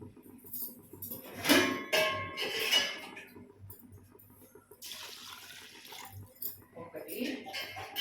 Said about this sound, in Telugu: రైస్లో మనం వాటర్ పోసేసుకోవాలి